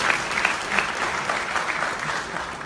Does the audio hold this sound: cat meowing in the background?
no